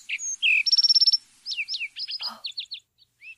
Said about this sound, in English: I believe that one was a sparrow.